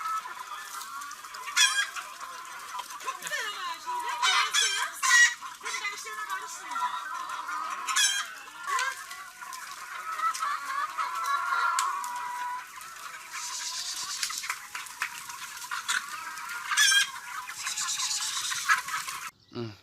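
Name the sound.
chickens clucking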